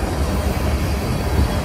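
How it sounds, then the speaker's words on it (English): A Canadian Pacific freight locomotive and its train roll past close by. The rumble is loud, steady and broadband, with no voices. "That locomotive, Canadian Pacific, that's what I want to see."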